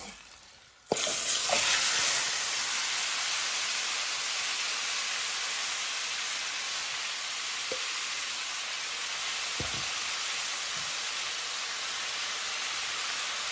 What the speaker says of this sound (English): And this is where I will add in my lamb.